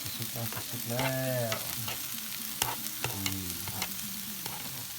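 An omelette with mackerel fries in a pan, giving a close, steady sizzle with stirring scrapes and a few brief tonal sounds over the top.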